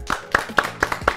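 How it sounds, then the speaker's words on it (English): Contestants on a cooking competition give a short round of scattered claps, about five distinct hand claps close by at a loose, uneven rhythm. "I think you can all give yourselves a warm round of applause."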